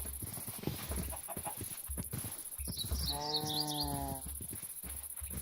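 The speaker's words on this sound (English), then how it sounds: "the unsettling event of a bunch of cows walking in one direction at the same time" Cows in Minecraft: a single drawn-out, tonal moo rises over soft, continuous shuffling and clopping from the animals walking together.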